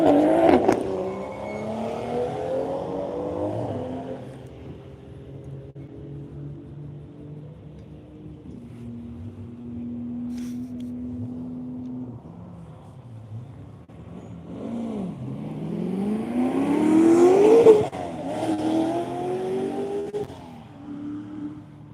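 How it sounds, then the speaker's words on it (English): Seven race cars' engines rise and fall in pitch as they accelerate and pass on a track, one roaring loudly nearby before fading, others droning in the distance. "So we have all 7 cars out on track now."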